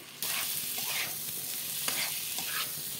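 Fried papaya and potato pieces drop into a pan of simmering spiced masala for a chana dal curry, setting off a steady close sizzle with a few soft stirring scrapes, and no voices.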